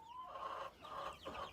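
Several chickens cluck together inside a backyard chicken coop, a few short bursts of fowl chatter repeating close by with no voices.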